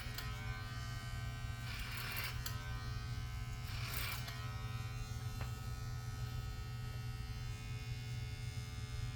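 An electric hair clipper buzzes steadily throughout a pixie cut in a salon, a constant close hum with two brief brighter bursts as the blades cut into hair, and no talking.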